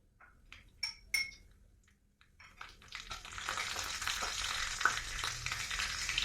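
Oil heats in a pan for tempering, and after a few clinks from a utensil it settles into a steady, rising sizzle and frying hiss that fills the background.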